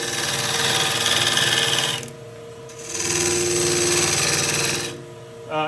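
A wood lathe spinning a bowl blank while a sharpened gouge makes a shear cut roughing out the inside, giving a loud, steady grinding hiss in two long passes separated by a brief quieter pause.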